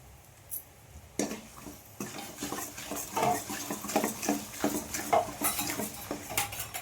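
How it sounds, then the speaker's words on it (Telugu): A spoon scrapes and clinks against a pan while turmeric is stirred into hot oil, the strokes rhythmic and close, with a light sizzle underneath. "పసుపు వేసి కూడా ఒక నిమిషం పాటు కలుపుకుంటూ ఉండాలి"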